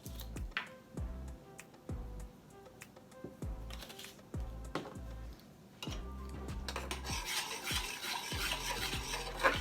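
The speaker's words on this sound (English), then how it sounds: "Now everything is nicely being mixed in because the jam is now like a liquid." A spoon stirs BBQ rib sauce of blueberry jam, ketchup, mustard, garlic powder and onion powder in a pot, tapping and scraping the sides in a quick regular rhythm, with a soft bubbling hiss building toward the end.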